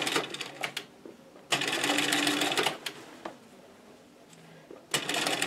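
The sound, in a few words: sewing machine top stitching ruffles on table runner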